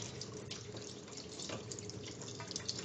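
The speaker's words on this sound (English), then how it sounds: "So again, water continues to flow from the assembly, so I've got water coming in." Water flows steadily from a faulty double check valve backflow assembly, a continuous faint hiss and trickle with no other sounds.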